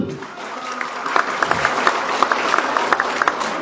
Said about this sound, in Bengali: স্যারের জন্য আরেকটি করতালি।